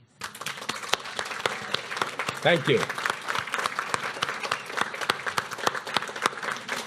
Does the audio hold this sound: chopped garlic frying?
no